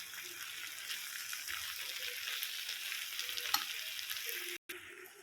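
Mutton masala mix sizzling and frying in a pan while being stirred, a steady bright hiss with occasional scraping, close and moderately quiet, cut off briefly near the end.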